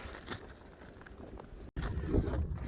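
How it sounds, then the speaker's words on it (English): Wind gusting across an open frozen lake, a steady broadband rush with buffeting bursts, cut by a brief silent gap before a stronger gust returns. "Oh, nasty wind on this side of the lake."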